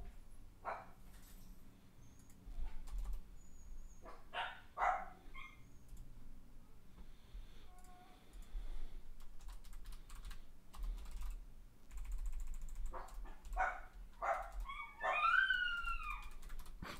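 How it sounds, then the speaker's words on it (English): Dogs, one named Watson, bark and let out a funny little yelp in the background, faint and intermittent, several short bursts and higher whining yelps mixed with close computer keyboard typing. "You hear those dogs, dude? Watson has such a funny little yelp."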